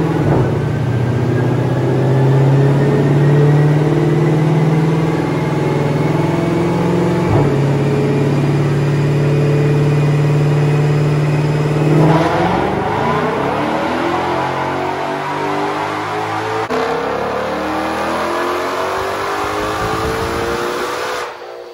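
A tuned car on a chassis dyno makes a sustained, loud engine roar through a rising pull, with pitch climbing through the gears, a shift-like break around midway and a second climb after it.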